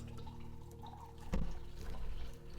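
Small amount of water poured into a drinking glass or bottle, a soft close trickle and splash with a brief louder gush midway, no voices.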